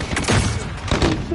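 Video game battle with rapid gunfire bursts and a dull explosion, loud and dense throughout, with shouted in-game voice callouts over the combat.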